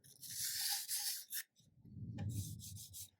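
Sandpaper rubbing on turned wood on a lathe, heard up close as raspy scratching strokes that stop briefly mid-clip and then resume.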